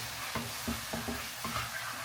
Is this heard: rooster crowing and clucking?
no